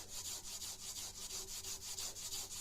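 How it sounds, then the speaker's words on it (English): A Scotch-Brite pad rubs over a blued rifle barrel to strip light surface rust, giving a soft, regular back-and-forth scratching rhythm, close and fairly quiet, with no talking. "with the Scotch Brite, all I'm doing here is just polishing the bluing and taking a little bit of the bluing off"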